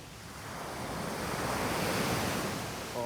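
Ocean surf rolling onto Folkestone Beach, Barbados, a steady broadband wash of breaking waves with some wind rumble, continuous and fairly loud throughout, with no talking.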